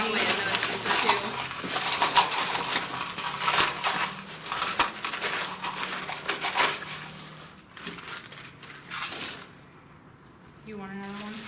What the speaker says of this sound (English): We'll add more ice.